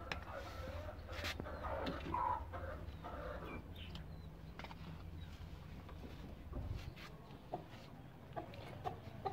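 A hen clucks softly near a nest of eggs amid farmyard noise, with low background rumble and scattered faint sounds throughout.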